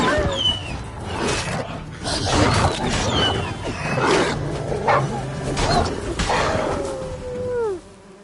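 A dog in The Witcher video game barks and whimpers amid busy game ambience, with high whining cries rising and falling throughout and a long descending whimper near the end.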